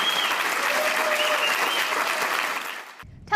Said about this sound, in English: The crowd erupted into thundering applause when Bennett mentioned the importance of the issue.